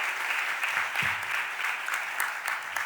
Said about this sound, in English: and Deputy Managing Director Crystal Yates, give them a round of applause